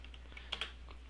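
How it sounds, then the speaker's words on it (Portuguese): A few soft keystrokes on a computer keyboard, two sharper taps close together amid quiet room hum, typed while entering values into a calculator program. "dou um duplo clique, começo a digitar"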